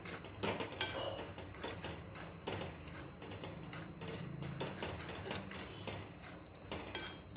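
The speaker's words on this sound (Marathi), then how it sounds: "आता हा जो रवा आहे तो अगदी हलकासा भाजून घ्यायचा आहे तेल तूप काही यामध्ये न टाकता" Semolina dry roasting in a kadai without oil, with repeated light scraping and clinking of a spoon against the pan, faint and close with no voices.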